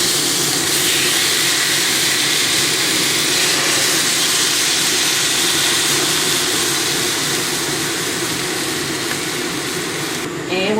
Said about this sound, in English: we're going to fry it up until it's very nice and tender